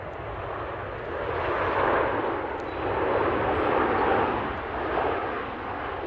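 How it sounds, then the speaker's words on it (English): A Ryanair airliner touches down at Manchester Airport, its broad, steady engine and rolling roar lasting several seconds at moderate distance, swelling and easing slightly with no talk. "Decent touchdown from the Ryanair."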